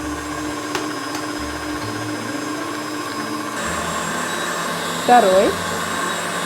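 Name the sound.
electric mixer beating eggs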